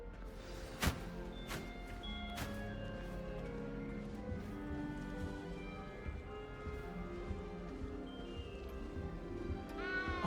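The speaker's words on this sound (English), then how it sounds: "Don't need to be frightened, little cat." A little cat meows repeatedly in Hogwarts Legacy, several clear, fairly close meows spaced across the stretch over quiet background ambience, with a louder call near the end.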